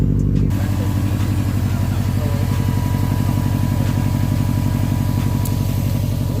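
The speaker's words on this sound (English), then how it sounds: "No, let it run idle once." A Subaru STI with a Stage 2 upgrade idles steadily, its engine note a loud, even, pulsing rumble that starts after a brief moment and runs on unbroken with no talking over it.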